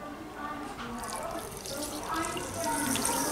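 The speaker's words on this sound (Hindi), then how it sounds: "तो अब मैं इसमें डालूंगी गुनगुना दूध, डालूंगी धीरे धीरे।" Lukewarm milk poured slowly into banana malpua batter in a home kitchen, a steady close liquid trickle and splash running throughout at moderate level, with a voice speaking over it.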